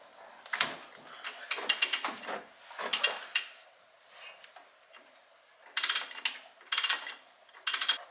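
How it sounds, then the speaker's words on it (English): A ratchet wrench works a nut on a VP44 injection pump, in quick bursts of rapid clicking separated by short pauses, close and crisp with little else around it. "I'm going to go ahead and try to yank this nut off"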